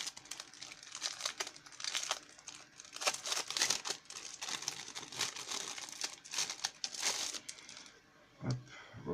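A sticker pack wrapper is torn open and handled, producing loud, close, irregular crinkling and rustling bursts throughout, ending with a soft thud.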